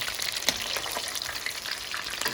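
Fish pakora frying in hot oil on a high-powered restaurant cooker, a steady, dense crackling sizzle with bubbling pops throughout, close up and without any talk.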